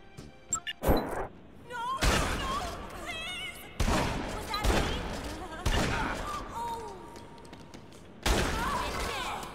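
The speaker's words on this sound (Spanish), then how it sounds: "Acabo de ver cómo lo agarraste a balazos a la morra exuberante" Sharp bursts of gunfire from Dead Rising 2 as a woman is shot in the game, several loud cracks separated by quieter gaps, with smashing impacts and short game sound effects between them.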